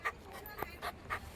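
A dog pants in short, quick breaths broken by thin whimpers, heard close up over a brief moment in a muddy outdoor yard.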